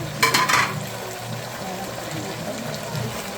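Sliced onions drop into a pan of frying meat, raising a brief bright sizzle and clatter, then a steady low frying hiss with faint stirring.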